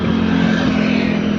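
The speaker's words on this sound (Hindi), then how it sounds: "हल्का सा राउंड मारते हैं घड़ाक घड़ाक आवाज़ है, जैसे इंजन फट जाएगा" A Mahindra engine with a broken connecting rod runs loudly and close by, a steady harsh rumble with a rough mechanical knock throughout.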